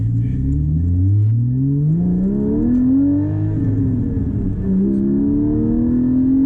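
A manual Porsche 718 Cayman GT4 engine revs loudly through a turn, climbing in pitch, easing off briefly, then rising again in second gear, heard from inside the car with no talking.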